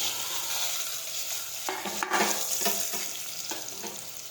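Chopped tomatoes and potatoes tipped into a hot frying pan with asafoetida, a steady sizzle swelling as the pieces land and followed by several scraping stirs against the pan; no speech.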